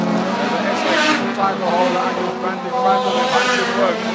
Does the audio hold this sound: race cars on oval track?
yes